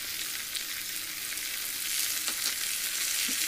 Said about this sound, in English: mix it well, fry it for 2 minutes.